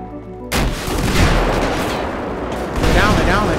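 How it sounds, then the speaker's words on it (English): Heavy gunfire in GTA 5 erupts suddenly and stays loud and dense for several seconds, a continuous rattle of shots with a fresh burst near the end. "They're shooting me. Heavy fire."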